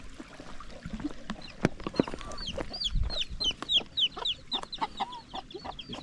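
Hen clucking near a chick, rapid repeated close clucks and soft peeps building into a steady run of calls, with a few knocks and rustles underneath.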